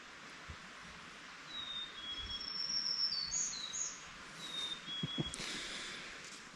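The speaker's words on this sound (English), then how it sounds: "The birds are chirping, rain's gone" Birds chirp and whistle outdoors after rain has passed, thin high calls scattered over a steady low outdoor rumble, distant and faint, with no one speaking.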